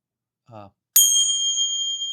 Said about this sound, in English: when I ring my bells, it's interesting that like when I'll do it here, it might be loud